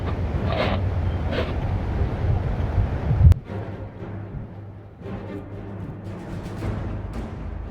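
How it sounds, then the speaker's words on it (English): A cold winter wind in Skyrim rushes and roars steadily, low and broad like gusts against a microphone, with a single sharp knock partway through; it carries on alone with no talking. "Must just be the wind."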